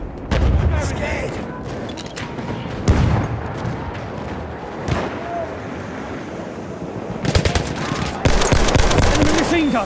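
Bursts of machine gun fire from a Battlefield 1 battle, loud and close, with sustained rattling volleys, heavier booms and distant gunfire between bursts, building to dense continuous firing near the end.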